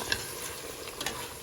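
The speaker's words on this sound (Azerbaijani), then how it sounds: "Onun üzərinə bir ədəd pomidor, bir ədəd qırmızı şirin biber və yaşıl şirin biber töküb biraz qarışdırıram." Fried lamb with onion, tomato and red and green sweet peppers gets stirred in a pan. A soft steady sizzle runs throughout, with two brief clinks from the utensil.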